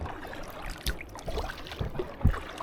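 Leisure paddling of an Aquaglide Deschutes 130 inflatable kayak downriver into the wind: soft, irregular paddle splashes and water trickles over a windy background.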